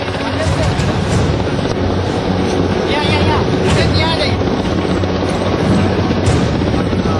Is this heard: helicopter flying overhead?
yes